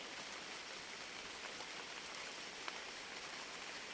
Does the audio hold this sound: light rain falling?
yes